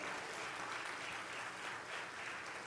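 Church congregation applauding during a sermon, a steady even wash of many hands clapping, distant and fairly quiet, continuing unbroken with no voices on top.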